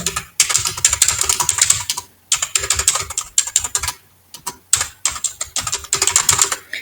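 Bursts of computer keyboard typing while entering code for a robot programming lesson, rapid clustered keystrokes in several runs separated by short pauses, close and crisp with no talking.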